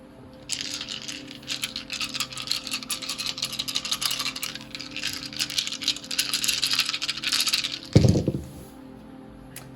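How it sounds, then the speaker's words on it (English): Dice rattled and shaken for a long stretch, a dense clicking patter close by, followed near the end by a sharper clatter as they are tossed and land. "let's get some dice."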